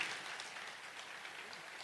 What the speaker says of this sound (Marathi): जोरदार टाळ्या व्हायला पाहिजे एवढ्यासाठीच